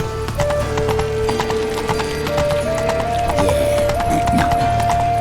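Roach, a horse in The Witcher 3: Wild Hunt, gallops with rapid, steady clip-clop hoofbeats close up. A whinny and sustained in-game music tones run underneath.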